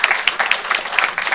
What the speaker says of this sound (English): Let's have a round of applause just quick for our panelists.